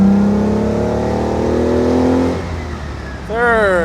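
A 1967 Fiat Dino Spider with its 2.0 engine pulls loudly up through the gears from inside the cabin, with a steady rising drone, a brief dip at a shift, then a fresh climbing whine as the next gear takes hold.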